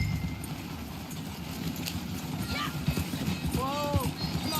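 Horse hooves clip-clop during a ride in the video game Red Dead Redemption 2, a steady mid-level patter running under game music and speech, with a brief whinny-like tone near the end.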